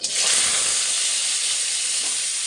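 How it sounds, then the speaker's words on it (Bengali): Potatoes frying in hot oil tempered with cumin seeds give a steady, bright hiss of sizzling that holds evenly throughout, close and fairly loud, with no voices. "এবার আমি আলুটা এখন ভেজে নেব। ওই জন্য তেলটা গরম করে একটু জিরে ফোড়ন দিয়ে দিচ্ছি"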